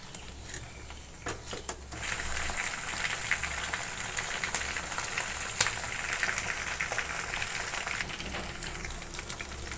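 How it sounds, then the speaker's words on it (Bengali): Thinly coated chicken in cornflour and flour frying in hot oil for chilli chicken, a steady crackling sizzle with a few sharper clatters as pieces are turned, close and fairly quiet. "এদিকে চিকেনটা আমার এক পিঠ ভাজা হয়ে গেছে, আমি আর এক পিঠ হালকা করে উল্টে দেব।"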